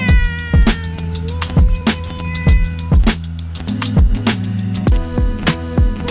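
Several cats on Cat Island near Phuket meow loudly and repeatedly, their overlapping calls rising and falling over a steady low hum.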